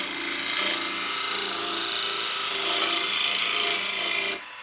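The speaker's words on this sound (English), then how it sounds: "you can use it like a scraper too. And then just scrape across that." A skew chisel used as a scraper rasps steadily across turning wood, a close, continuous, gritty scraping with a faint motor hum underneath, cutting off abruptly at the end.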